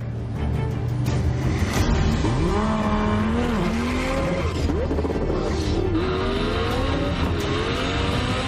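A car accelerates hard on an official speed attempt run, its engine pitch climbing and shifting through gears, loud and close, with tire noise and no talking over it.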